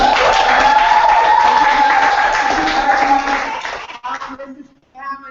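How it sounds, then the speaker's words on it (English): An audience gives a round of applause, a loud, dense wash of clapping and crowd noise that fills the first four seconds before fading out into a few scattered claps and a voice. "can we give her a round of applause?"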